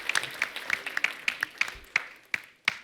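Studio audience at a comedy talk show clapping to welcome actor Akshay Kumar: sharp, evenly spaced rhythmic claps, about ten in under three seconds, fairly close and moderately loud.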